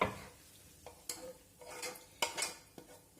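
Grated carrot tipped into a pan of rabbit pieces on a home stove: a few soft scrapes and clinks of utensil against the pan, with quiet rustling in between, alone and without talk.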